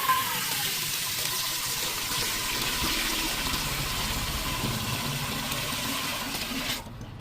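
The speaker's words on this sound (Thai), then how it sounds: "เราจะใส่น้ำทั้งหมด นะคะ 1ลิตรนะคะ เพื่อจะทำน้ำเชื่อมของเรา" One liter of water pours steadily into a pot to start a syrup for salted pickled mango, a continuous rushing splash lasting about seven seconds before cutting off.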